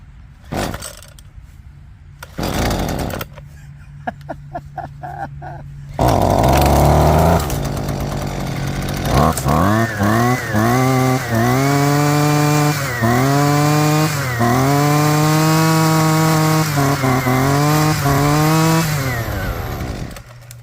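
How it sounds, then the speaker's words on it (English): A Husqvarna 128LD two-stroke weed eater with a newly replaced carburetor starts after a few pulls and runs loudly nearby, revving repeatedly between idle and high throttle. "That's your Husqvarna 128 LD."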